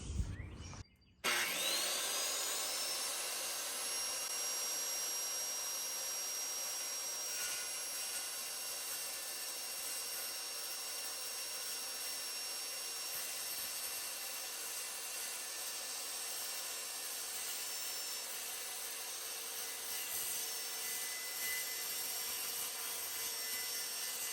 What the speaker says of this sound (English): So I'm going to use this level as a straight edge and use my skill saw or my circular saw.